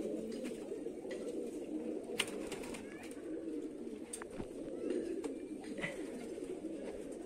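Giribaz tumbler pigeons coo after returning from a 14 km toss, soft repeated calls over a low steady background hum, with faint voices.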